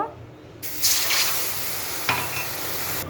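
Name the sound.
hot water poured into pan with roasted semolina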